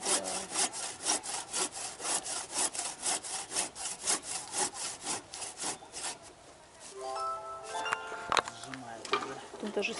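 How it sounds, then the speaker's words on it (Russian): A hand saw works through wood outdoors, a steady rhythmic back-and-forth rasp of strokes at close range for several seconds, then the sawing stops and people talk. "Ножовку поплотнее вот она."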